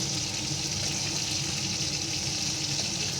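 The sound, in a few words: katla fish pieces frying in oil in a kadai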